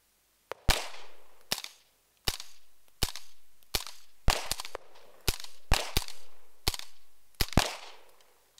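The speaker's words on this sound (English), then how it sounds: "just run the gun dry onto the cardboard target straight to your front" Simunition training rounds fired from a long gun at a cardboard target, about a dozen sharp cracking reports in an irregular rapid string, some doubled, each with a short ringing tail, with no talking.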